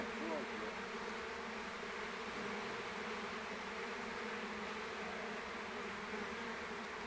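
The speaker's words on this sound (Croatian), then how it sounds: "Malena pčela." Bees buzzing steadily and close while a swarm is being caught, a dense continuous drone that holds throughout with no pauses.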